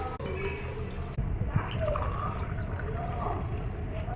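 Pureed mint water for pani puri poured through a strainer, a steady close trickle and dripping of liquid running on for several seconds.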